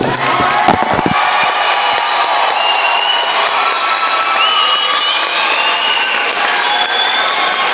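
A church congregation claps and cheers loudly for Eastern Christians in their midst during a Sunday service, a dense, sustained wave of applause with whoops and shouts running throughout.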